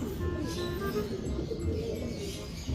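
Soft cooing of racing pigeons rises from a busy, noisy background, with a few thin chirps near the start.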